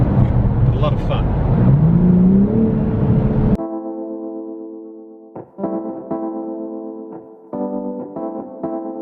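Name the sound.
2021 BMW M4 Competition engine revving and accelerating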